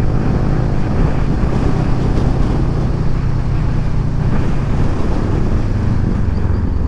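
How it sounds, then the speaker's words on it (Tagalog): Strong wind roars in a constant, loud rush across a microphone on a motorcycle ride along a road in Dipaculao, Aurora, toward Isabela, with a low engine rumble beneath. "Grabe yung hangin na yan."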